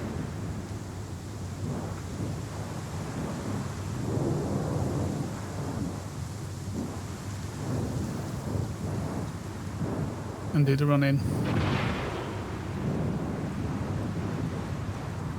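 In-game wind in Star Citizen buffets a cargo ship during landing, a steady loud rushing roar with gusty swells and one brief sharp sweep near the end, under a few spoken words.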